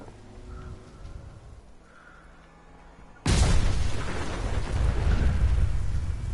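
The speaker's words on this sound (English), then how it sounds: "And a landmine right on cue." In Fallout 4, a landmine's sudden loud blast erupts midway through a quiet stretch, followed by a sustained rumbling roar of debris and noise that keeps going to the end.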